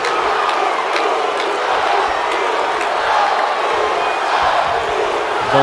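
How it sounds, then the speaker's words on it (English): Arena crowd in the WWE 2K wrestling game roaring and cheering steadily throughout a triple threat match, a dense continuous wall of noise with no talk. "This crowd firmly behind Jey Uso on this one."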